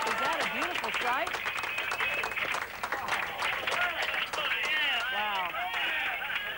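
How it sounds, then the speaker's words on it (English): Cheering and applause fill the Jet Propulsion Laboratory control room during a Mars rover landing, a steady dense crowd roar with clapping and excited voices layered over one another throughout. "You can hear cheering all over the Jet Propulsion Laboratory here this evening"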